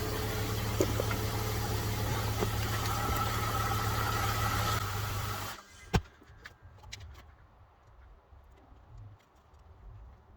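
A BMW E46 with a coolant leak at the water pump gasket idles close by with a steady low hum, then the engine is switched off and the sound cuts out abruptly, leaving near quiet and a single thump.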